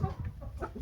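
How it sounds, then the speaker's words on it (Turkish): Short clucks from a two-year-old hen, soft and close, a few quick low calls over a brief stretch with no talking. "Bak bu da tavuk"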